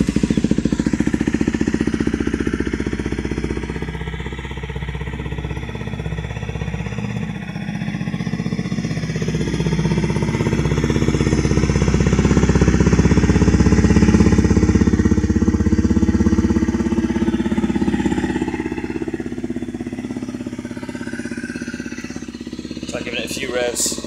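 A loud Honda CRF250M with a custom exhaust is revved continuously with a rough, throbbing tone, rising and falling slightly in intensity, close to the listener.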